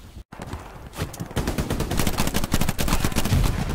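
Rapid video game gunfire with repeated bullet impacts on enemy soldiers' helmets, a dense, loud stream of sharp shots and metallic hits that keeps going for several seconds without a break.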